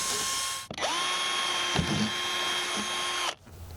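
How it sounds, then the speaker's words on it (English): A power drill whirs steadily at high speed for a few seconds drilling holes in a police interceptor car for light bar brackets, its pitch holding level before it stops abruptly. "Now we could drill our holes using the light bar brackets as a guide."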